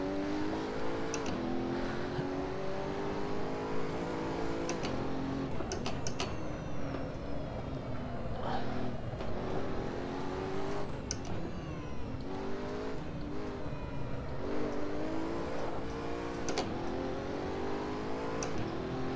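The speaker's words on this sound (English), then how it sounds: "I do like how the car steps out on the accelerator." Pagani Huayra engine in the Assetto Corsa racing simulator, revving steadily under power with rising and falling pitch through gear changes, loud and continuous for the whole stretch.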